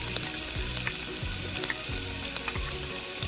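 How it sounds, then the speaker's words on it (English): Garlic and ginger fry in hot oil, a bright continuous sizzle broken by regular scraping strokes of a spoon stirring the pan, close and fairly quiet with no talking. "Just fry till golden brown."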